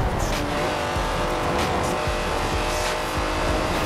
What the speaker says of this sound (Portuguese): ele é um V12, galera.